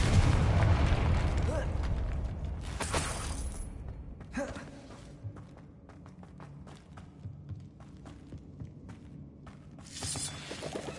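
The Confringo explosion spell in a video game bursts with a loud boom at the start, followed by crackling debris and further sharp pops fading into quieter ambience, with some talk.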